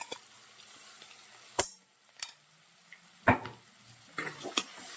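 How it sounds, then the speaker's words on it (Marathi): Onion and green chili paste filling sautéed in a pan, with a faint background sizzle broken by scattered sharp scrapes and clicks of a stirring utensil. "अशा प्रकारे पूर्ण सारण आपल्याला परतून घ्यायचं आहे अगदी दोन ते तीन मिनिट मस्त परतून घ्यायचं आहे"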